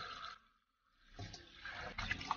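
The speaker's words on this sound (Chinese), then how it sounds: "再用流动的清水清洗一下" Tap water runs steadily over blanched pig trotters in a large basin, a faint hiss with splashing. It cuts out briefly, then returns with a fuller gush and a few drips and clinks.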